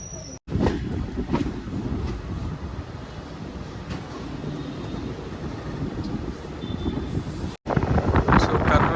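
Tungabhadra Express running from Kurnool toward Hyderabad, heard from inside an AC coach: a steady low rumble of wheels on rails with wind-like noise, continuous and fairly loud, broken by two brief dropouts.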